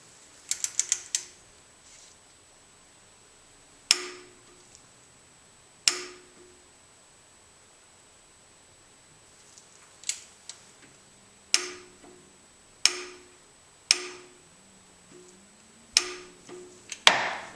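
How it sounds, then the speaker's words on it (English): A torque wrench tightens the camshaft pulley bolt on a Honda Prelude to 27 foot-pounds, giving sharp isolated clicks spaced a couple of seconds apart, with a quick rattle of ratchet clicks at the start. "Torque wrench goes on. 27 foot-pounds."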